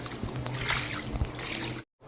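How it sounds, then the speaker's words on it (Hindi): Water splashes and sloshes steadily as someone wades through floodwater after heavy rain, with a continuous wet churning that stops abruptly near the end. "मैं भी आ रहा है पानी में, इतना पानी हो रखा है"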